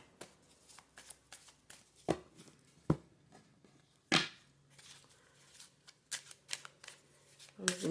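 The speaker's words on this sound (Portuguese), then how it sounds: "Vamos embaralhar aqui." A deck of tarot cards being shuffled by hand gives close, crisp riffles and sharp slaps in irregular bursts, with quieter handling between them.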